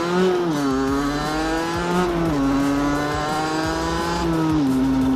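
A motorcycle fitted with a Conti V7 Black Street exhaust and a 19 mm carburettor rides past at a steady cruise, its deep exhaust note rising and dipping slightly with the throttle, loud and close with no voices.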